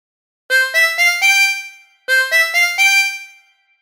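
A tremolo harmonica plays a phrase of Oh When the Saints in two short bursts of four bright, wavering notes each, clear and close with silence between and no voices.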